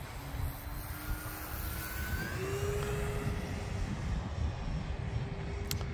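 E-flite T-28 1.2m RC model airplane flying over a church parking lot, its electric motor whining steadily with a slowly shifting pitch that rises and falls as it passes, over a constant broadband wind-and-engine hiss.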